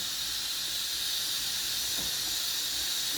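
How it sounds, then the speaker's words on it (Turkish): A steady, bright hiss of chopped onions sizzling in a hot frying pan, constant and close, with a faint tap or two underneath. "Şimdi soğanını doğradım bir yandan kavuruyorum"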